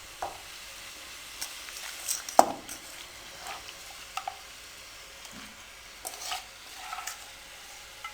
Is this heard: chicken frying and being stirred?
yes